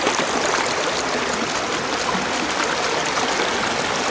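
Clear forest stream flowing strongly, a loud, continuous rushing and splashing wash of water close by, steady throughout with no talking.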